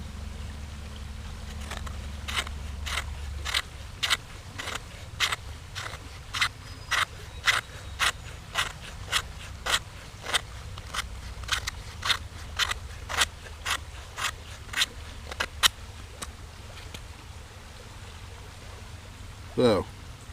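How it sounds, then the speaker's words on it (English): A Cold Steel Finn Wolf pocket knife's sharp 90-degree spine rasps repeatedly along a piece of fatwood, a fast, even series of crisp close scrapes, about two dozen strokes, then stopping. "no problem scraping material there"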